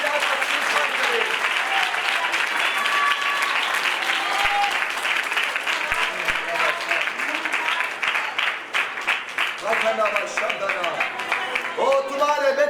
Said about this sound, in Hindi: ताली बजाकर स्वीकार करें